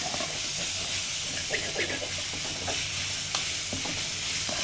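Tomatoes sautéing in a pan for a chicken soup, a steady hissing sizzle with steam and occasional stirring scrapes and clicks, close and fairly loud.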